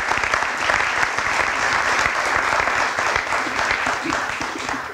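A large crowd at a boys soccer Dream Team awards ceremony breaks into loud, sustained applause that keeps up for several seconds and fades slightly toward the end.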